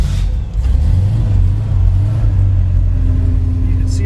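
A 1968 Chevrolet Camaro engine idling just after a cold start, a close, steady low rumble that holds evenly throughout, with a voice briefly heard over it.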